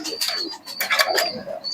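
Pigeons in a home loft coo softly over a background of chirps and rustling, with several overlapping calls across the short stretch and no talking.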